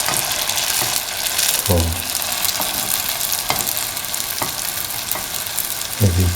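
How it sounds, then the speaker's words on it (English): Chicken meatballs fry in a pan with a loud, steady, close sizzle, broken by a few dull knocks as they are turned, and a single word is spoken briefly. "Now put in the chicken balls into the pan and let it fry by turning from side to side"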